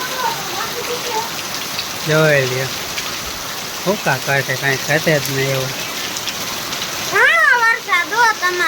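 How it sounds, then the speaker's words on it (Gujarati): Heavy rain at the onset of the rainy season hisses steadily in the background while someone talks in bursts over it, the downpour continuing evenly beneath his voice. "બહુ વરસાદ હાય તમને"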